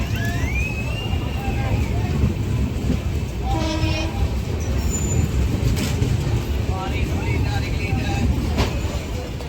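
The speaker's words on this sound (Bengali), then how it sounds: "তো ট্রেনটা এসে পৌঁছেছে কাটোয়া স্টেশনে" Steady rumble of a train arriving at Katwa station, with a horn-like tone and background chatter from people nearby throughout.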